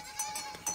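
Young goats bleating in a barn pen on a mountain-goat farm, a few short calls spaced across under a second, fairly close, with no talk over them.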